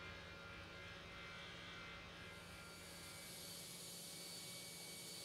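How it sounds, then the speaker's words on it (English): Aircraft landing in the video game Tower Simulator 3 at Puerto Vallarta, a faint steady jet engine whine and rushing roar that brightens midway as the plane comes down, with no talk. "And another happy landing."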